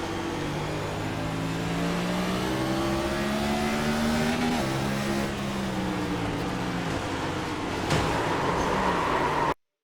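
Race car engine heard from the onboard camera in the iRacing sim, a loud, steady drone with the pitch climbing and dropping through gear changes, continuous for nearly ten seconds with no talking.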